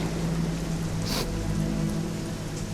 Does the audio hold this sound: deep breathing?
no